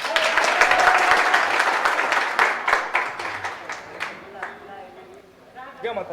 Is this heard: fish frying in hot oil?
no